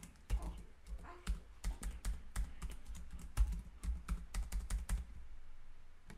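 Password being typed on a computer keyboard, a quiet series of irregular key clicks in short bursts with brief pauses between them.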